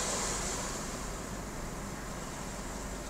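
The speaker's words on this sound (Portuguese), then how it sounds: "Agora você vai ver essa imagem aqui do museu ouvindo esse barulho das ondas." Steady broadband wash of ocean surf at Boa Viagem island in Niterói, a continuous roar with no distinct breaks, heard from a distance with no voices.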